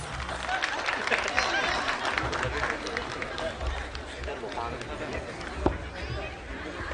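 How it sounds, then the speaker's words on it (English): Big round of applause from a large outdoor crowd at a Republic Day celebration, dense steady clapping mixed with cheering and crowd chatter, fairly loud and sustained throughout. "Ladies and gentlemen, let's give them a big round of applause"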